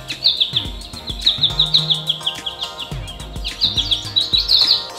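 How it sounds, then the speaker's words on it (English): Recorded birdsong plays as a nature sound from a Sony AM/FM dual alarm clock radio: bright, rapid chirps and tweets in repeated bursts, clear and alone. "the birds chirping."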